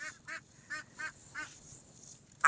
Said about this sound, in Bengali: দেখছেন এখানে কয়টি কিন্তু হাঁসও আছে, এই যে শব্দ করতেছে